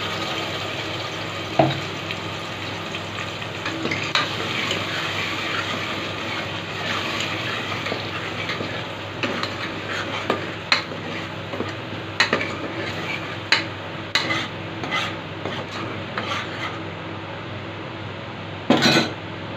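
Spice masala paste frying in oil in a pan for a village-style chicken curry, with a steady hiss, scraping stirs and occasional sharp clinks of a utensil against the pot.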